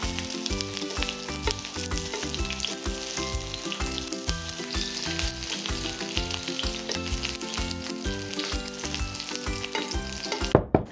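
Sausage and rice cake skewers sizzle steadily as they pan-fry in a hot pan, a continuous crackling fry heard close up with no voices.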